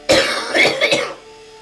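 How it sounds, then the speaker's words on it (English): A person with cystic fibrosis coughs close by in a short burst of about three harsh, wet, throaty coughs, loud, then a quiet pause. "I cough like pretty frequently"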